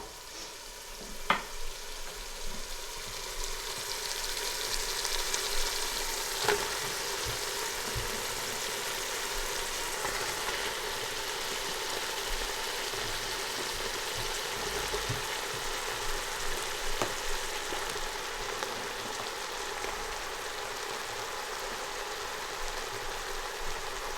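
Aubergine sizzling and frying in a masala base in a pan, a steady close crackle with occasional sharp pops and light stirring scrapes throughout, no talking.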